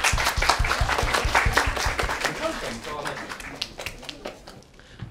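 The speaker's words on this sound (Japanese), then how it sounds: "皆さんも拍手。" A small group at a YouTube Space Tokyo fan event claps together, sharp rhythmic hand claps that gradually thin out and fade as voices talk over them.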